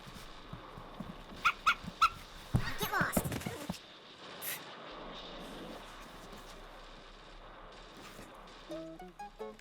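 A puppy whimpers and gives a few short, high yips early on, faint against a quiet background.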